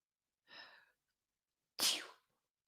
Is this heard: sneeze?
yes